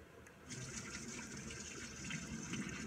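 Mushroom grain spawn kernels are rinsed, with water pouring and splashing steadily through a brass screen into a sink. The sound is continuous and faint, with a soft voice briefly underneath.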